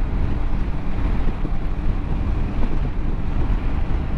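Steady wind roar and buffeting around the adjustable windscreen of a Kawasaki Versys 650 motorcycle riding at about 40 mph, a dense continuous rushing that fills the whole stretch without any talk.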